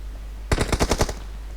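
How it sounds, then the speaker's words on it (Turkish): Gunfire from the PUBG video game on the Miramar map, a loud close burst of about six rapid shots packed into half a second, then quiet. "Roxy'ye doğru pompalı atışları var"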